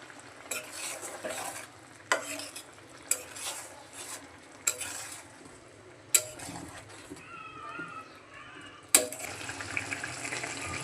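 Tangra fish tel jhal curry sizzles gently in a pan as a utensil stirs and scrapes it, with repeated sharp clinks and scrapes over a soft, continuous frying hiss.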